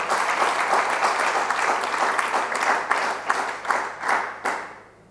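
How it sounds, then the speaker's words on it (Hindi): An audience at a spiritual discourse on the Ram–Bharat dialogue claps together in rhythmic bursts of applause, steady and fairly close, then fades out at the end. "तालियां बजाओ।"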